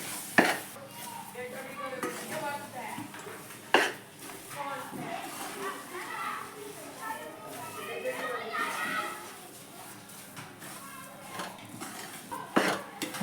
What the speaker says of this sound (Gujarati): હવે ફરીથી મલાઈ નાખવાની અને ધીમા તાપે શેકવાનું બરાબર શેકાઈ જશે